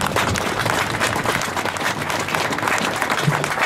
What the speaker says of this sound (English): Give all yourselves a round of applause.